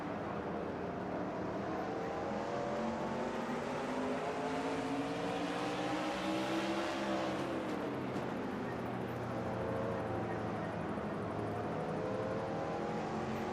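Race cars run at speed in a NASCAR-style racing video game on an oval, making a continuous dense engine roar with shifting pitch as the pack sweeps through a turn, steady and loud without talk.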